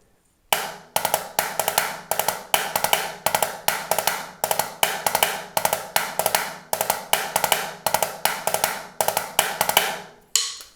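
A drum plays a drag rudiment in 6/8 time, giving a loud, close, evenly repeating pattern of sharp strokes with quick grace notes in a lilting triple feel, with no voices.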